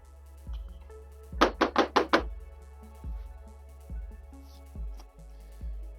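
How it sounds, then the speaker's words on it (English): A screwdriver knocks against a chainsaw bar while cleaning out chunks: a quick burst of five sharp metallic raps, then slower single taps spaced about a second apart, close up. "Any big chunks I just kind of clean out with a screwdriver, get it out of here."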